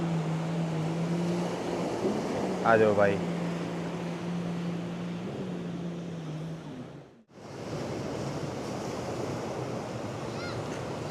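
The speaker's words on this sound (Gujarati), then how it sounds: "એની બીચીસ તો બહુ સુંદર છે એકદમ ક્લીન બીચીસ છે" Steady wash of surf rolls onto a white-sand beach in Langkawi throughout, with a brief voice and a low droning hum partway, then a sudden dropout before the waves continue.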